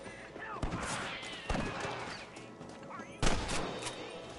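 Gunfire in the Red Dead Redemption video game, several sharp separate shots spaced a second or so apart, the last one loudest, over shouting and busy game ambience.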